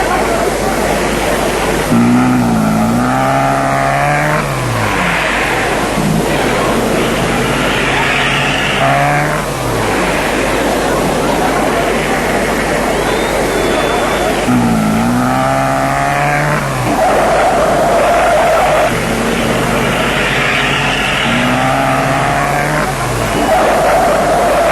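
A Canadian Hell Drivers stunt car reverses and skids at Walthamstow Stadium, its engine revving loudly in rising, sweeping bursts around two main passes, over a steady, dense roar of broadband noise that fills the whole stretch.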